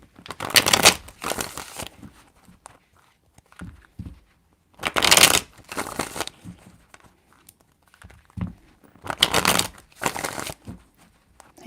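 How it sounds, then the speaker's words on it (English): Tarot cards shuffled by hand in three distinct bursts of riffling and flicking, close and crisp, separated by quieter pauses with small handling noises. "3 shuffles for Cancer."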